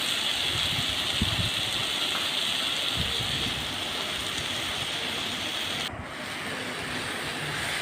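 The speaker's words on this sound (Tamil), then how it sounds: "இப்போ தக்காளியெல்லாம் வதங்கிடுச்சு. இப்போ சொரக்காய் போடுறோம்." Chopped bottle gourd tipped into a pan of softened, sautéed tomatoes, giving a steady close frying hiss with a slight shift in tone near the end; no voices.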